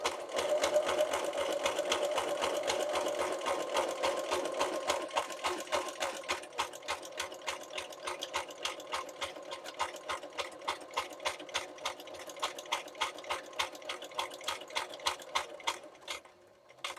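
A sewing machine stitches lace and seam binding on a tall skinny accordion booklet, humming steadily and then breaking into distinct rapid stitch pulses, close and continuous throughout, with no voices.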